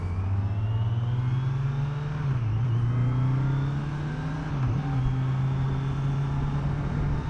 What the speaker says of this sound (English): This engine just sounds so good.